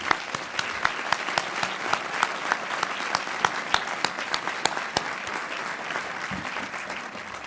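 Steady applause from a crowd at a Sawyer Business School commencement, dense overlapping claps sustained throughout at moderate loudness, with no talking over it.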